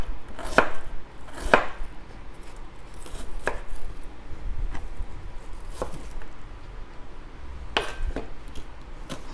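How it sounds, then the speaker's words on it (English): Knife chopping onions into small slices on a board, a handful of sharp, close taps spaced unevenly, a few louder than others, over quiet kitchen background. "If I remember how Sweet Adjeley did it, I'll just cut it into small slices."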